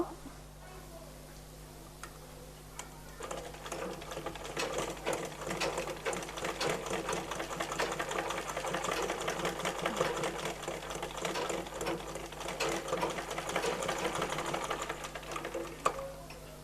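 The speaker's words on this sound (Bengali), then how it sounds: "এখন ঠিক এটার উপরে ভরে রেখে আমি সেলাই করবো" A sewing machine stitches the piped neckline of a baby frock, its steady rapid needle rhythm running continuously and fairly close, growing slightly louder midway, with faint background music throughout.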